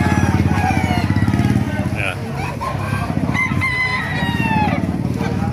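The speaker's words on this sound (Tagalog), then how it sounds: "Papakita ko sa inyo mga manok dito sa Baliwag" A rooster crows more than once over a steady engine-like rumble at a chicken market in Baliuag, Philippines, with other birds and distant voices mixed in.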